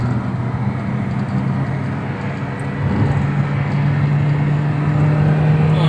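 A 2014 Toyota Vios with a manual gearbox, held in third gear at about 110 km/h, heard from inside as a constant low engine and road drone. The drone thickens slightly and grows a little louder midway, with no talking.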